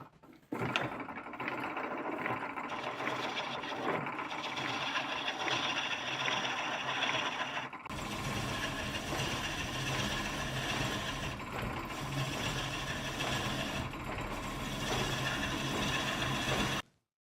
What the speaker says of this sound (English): I'm now going to go back to the skew chisel and get a much finer surface on the part that we roughed out